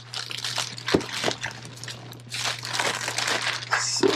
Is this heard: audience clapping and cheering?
no